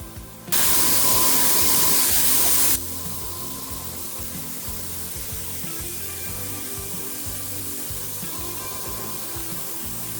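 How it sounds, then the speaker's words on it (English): A Wagner paint sprayer blasts paint onto a detailed wooden nightstand in one loud, steady hiss lasting about two seconds near the start, then gives way to a quieter background hum. "this time I decided to use my Wagner sprayer because this piece had so much detail"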